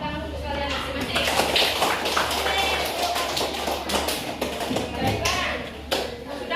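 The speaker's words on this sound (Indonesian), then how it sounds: "Tepuk tangan untuk kalian masing-masing." Schoolchildren clapping for each other in a classroom, irregular bursts of small hands tapping close by, mixed with shuffling, thumps and children's chatter throughout.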